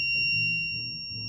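A temperature and humidity monitor's alarm sounds, two steady high electronic tones held throughout, with a low hum underneath.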